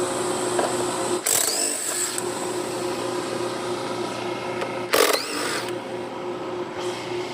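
Two short bursts of a power tool, likely an impact driver, loosen the half-inch mounting bolts on the feet of an AC unit, standing out above a steady background hum.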